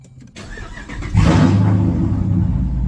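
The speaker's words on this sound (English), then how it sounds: "let's go ahead and start the Jeep" A Jeep engine on a warm start cranks briefly, then catches and settles into a loud, steady idle close by.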